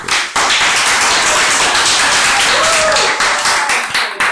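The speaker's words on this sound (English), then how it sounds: "Can I give them a round of applause for me?" Loud, close clapping from a group at a grade 10 art exam exhibition, dense and continuous with crisp individual claps, starting abruptly and running on steadily.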